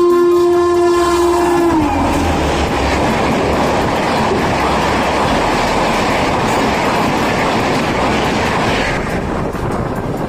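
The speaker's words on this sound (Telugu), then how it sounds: "ఇది అందమైన ఇండియా యొక్క స్పీడ్ ట్రైన్" An Indian speed train blasts its horn briefly, then thunders past very close and loud, its rumbling, clattering wheels filling the rest of the passage.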